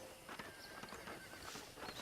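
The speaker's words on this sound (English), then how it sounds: "I picked out a fine horse for you." Faint horse hooves clip-clop along with a short whinny in the Red Dead Redemption video game at a ranch, low in the mix with no talking.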